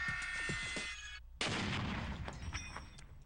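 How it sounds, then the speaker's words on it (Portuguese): Explosions from shaped-charge tests fired against steel blocks, heard as loud, sharp booms with broadband roar: one burst up front, a sudden gap, then a second powerful blast that decays with rumbling debris noise. "há uma grande liberação de energia nessas explosões"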